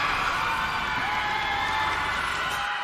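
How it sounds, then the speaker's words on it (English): A large arena crowd roars and cheers continuously after Blacklist International wins Game 1 in an MPL Philippines Season 11 Mobile Legends esports match, a steady dense wall of cheering and whoops. "Hear the crowd roar as a sea of agents cheer on Blacklist International with that Game 1 victory."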